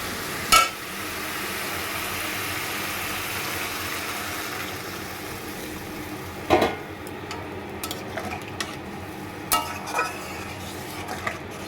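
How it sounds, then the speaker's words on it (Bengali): Potatoes are stirred into spices already fried in oil in a pan, with a faint background sizzle and a few sharp scrapes and clinks of the spoon against the pan. "এবার আলুগুলো দিয়ে একটু নাড়াচাড়া করে নেব।"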